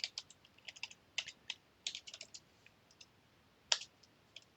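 Computer keyboard typing code in quick, light clicks and short bursts, close and fairly quiet, with small pauses between keystrokes.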